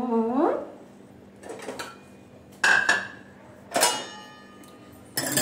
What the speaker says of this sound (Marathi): आपण हिला एवढी भांडी लावून घेऊ.